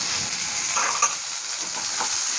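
Onions and capsicum fry in hot oil for paneer pasta, making a close, steady sizzle broken by a few stirring scrapes, with no one speaking.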